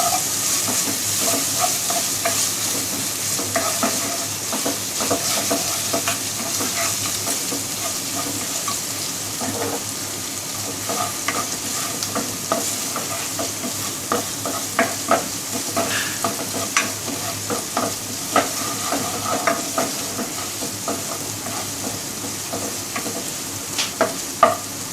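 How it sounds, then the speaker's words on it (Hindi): Ginger garlic paste fries in hot oil with a steady, even sizzle while a utensil scrapes and stirs it now and then, close and moderately loud, with no talking. "अब इसी ऑयल के अंदर हम अदरक लहसुन का पेस्ट डाल के इसको थोड़ा सा फ्राई करेंगे"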